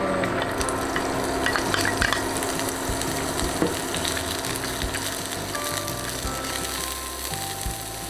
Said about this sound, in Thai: มาทอดถั่วงอกก่อนนะคะใช้น้ำมันนิด ถั่วงอกลงไปเลย